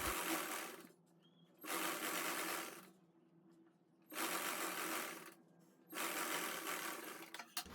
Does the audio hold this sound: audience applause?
no